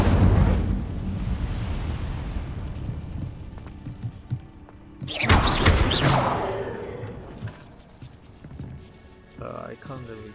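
Incendio fire spell cast in Hogwarts Legacy, a dense rumbling roar that gives way to a sudden bright whooshing burst of flame midway, then fading crackles and a short tonal flourish at the close.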